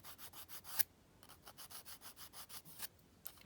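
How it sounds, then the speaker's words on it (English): A nail file rasping around the cuticle while fingernails are prepared for a dip powder fill, short rhythmic scraping strokes repeating steadily and close, with a brief sharp tap partway through and no talking. "And then I like to file around the cuticle."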